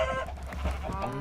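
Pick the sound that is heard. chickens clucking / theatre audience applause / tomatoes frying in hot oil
chickens clucking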